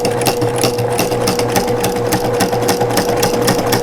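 A sewing machine stitches a quilt strip set with a fast, steady, even rattle of the needle, close and loud throughout, running alone without any talk.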